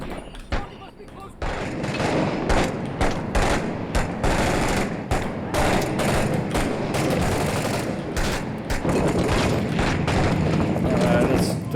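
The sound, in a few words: mortar fire in the Six Days in Fallujah video game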